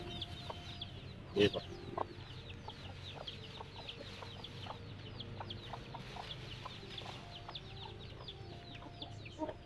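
Native chickens raised on a backyard farm cluck softly and steadily, with one sharper call standing out early, over low farmyard background noise and a brief spoken phrase.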